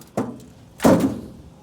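A brick is smashed into a microwave, giving two dull, heavy blows, a lighter thud followed a moment later by a louder, resonant impact that rings briefly and fades.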